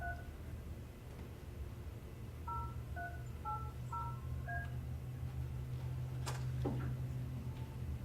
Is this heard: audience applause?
no